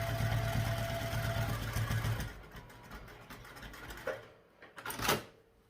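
A sewing machine top stitching a backpack runs steadily with a loud, even mechanical whir for about two seconds, then stops, leaving quieter handling noises and a few soft knocks.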